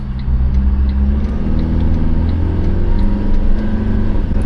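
A Toyota 79 Series with a four-cylinder engine and automatic gearbox pulls uphill, its engine giving a loud, steady, close low rumble that holds throughout with no talk over it.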